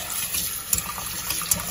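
Cooked pho noodles drained in a strainer, with a steady wash of running water and a couple of brief splashes, close and moderately loud.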